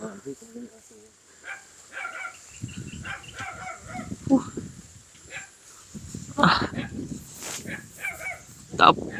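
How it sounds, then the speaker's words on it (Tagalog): A dog barks several times at a distance while people talk and call out nearby. "May aso nga."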